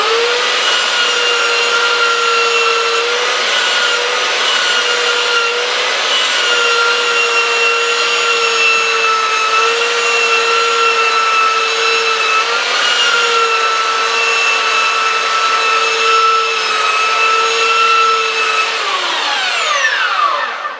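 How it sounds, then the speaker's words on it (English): A belt sander runs continuously on a freehand-carved wooden sign, a loud, close, steady motor whine with grinding friction throughout, winding down at the very end. "I need to sand a little bit more to smooth that out. But I, with the belt sander, I can do that."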